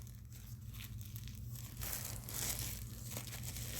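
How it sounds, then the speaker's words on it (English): Plastic being crinkled and handled during a taxidermy bear restoration, a continuous close, soft crackling rustle that swells slightly midway, over a steady low electrical hum. "Don't you just love hearing the crinkling of plastic?"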